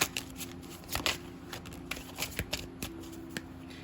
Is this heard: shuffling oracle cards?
yes